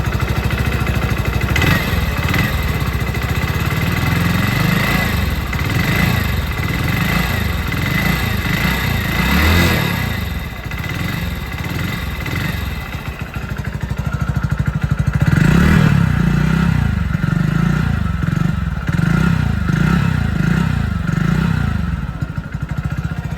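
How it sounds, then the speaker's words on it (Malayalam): A 2025 Hero Splendor Plus motorcycle engine runs steadily at idle, a loud, close, even chugging with a brief rev partway through, and no voices. "നമുക്ക് ജസ്റ്റ് വണ്ടി ഒന്ന് സ്റ്റാർട്ട് ചെയ്തിട്ട് ആ എൻജിൻ്റെ ശബ്ദം കൂടി ഒന്ന് കേട്ട് നോക്കാം"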